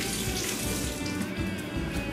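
Water pours steadily from a kitchen tap during the preparation of Chinese-style steamed fish, a dense, continuous rushing splash with no talking.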